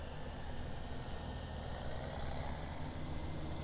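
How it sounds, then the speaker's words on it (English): A tractor engine in the farming video game Farming Simulator 2017 gives a steady, dense low rumble with no clear rise in revs. It plays alone over the whole short stretch. "You'll also see it revs up as well."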